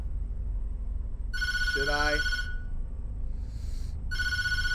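A telephone rings in the horror video game Tattletail, two bursts of a bright electronic ringing tone separated by a short pause, loud and close, with a person's brief speech overlapping the first burst.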